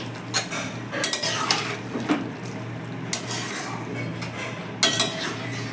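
A metal spoon scrapes and clinks against a pot while fish-head and potato curry made with katla fish is stirred, giving irregular sharp knocks over a soft background hiss.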